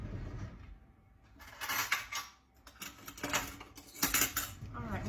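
Salmon patty mixture with onion and red pepper stirred with a utensil in a dish: bursts of clinking and scraping against the bowl, close and moderately loud, separated by brief pauses.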